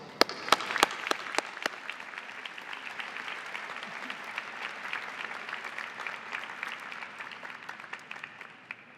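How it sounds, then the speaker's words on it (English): An audience at a university diploma and awards ceremony applauds, starting with a few sharp individual claps that swell into steady, sustained clapping from a large crowd, heard at moderate distance throughout. "Please join me in a round of applause."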